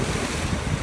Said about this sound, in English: Excuse the noise of the waves here in beautiful Mallorca.